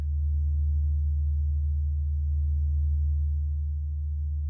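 Sonified sound of the Sun, produced by rising and falling gas in convection, heard as a deep, steady, ominous low drone with faint gurgling undulation, loud and unbroken.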